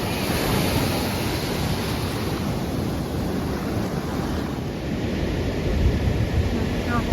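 Atlantic Ocean surf on a beach in France, a steady broadband wash of waves with wind buffeting the microphone throughout, loud and continuous without clear individual breaks.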